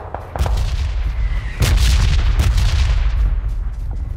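Gunfire in a PUBG match: a string of loud, booming shots and sharp cracks, some nearer and some more distant, over a continuous low rumble of game ambience.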